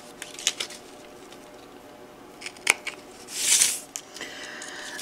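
Scissors snip quilling paper strips, a few sharp close cuts among light paper handling, with a brief louder rustle near the end.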